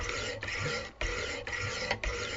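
A kitchen knife is drawn across 200-grit orange-handled stones on a Wicked Edge sharpener, giving a quiet, close, regular rasp of about five even strokes, each roughly half a second long.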